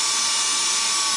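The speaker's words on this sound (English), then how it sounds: "Let's drill a little hole and thread any old screw into it." A small hole is drilled into the cap over the fuel mixture screw on a 1982 KZ1000 carburetor, the engine having sat for 35 years; a steady high-pitched drill whine runs continuously and close throughout, with no talking.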